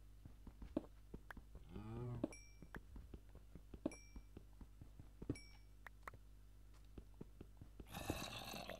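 A Minecraft cow moos briefly amid scattered clicks and small chime-like blips, with a second, louder low moo near the end.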